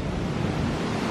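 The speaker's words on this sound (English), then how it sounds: "Look at all these waterfalls" Water pours and splashes heavily off the side of a building in a dense continuous roar, loud and close, with no voices.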